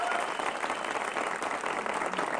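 Audience applause in a debate hall, a continuous, even wash of many hands clapping at moderate distance for its whole short length.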